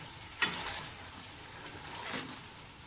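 Mutton and tomato stir-fried in a pot give a steady soft sizzle, with one sharp scrape of a spoon near the start and a fainter stirring pass later.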